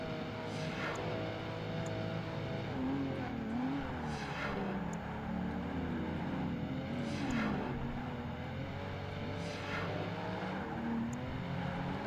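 Caterham and Lotus race cars in the video game Project Gotham Racing 2 drone along together, steady engine whine with repeated gear-shift revs and occasional sharp accents, moderately loud and without commentary.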